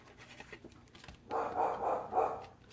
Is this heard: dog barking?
yes